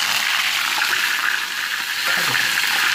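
Curry leaves frying in hot oil, a loud close continuous crackling sizzle that dips briefly and then returns, with faint stirring movement.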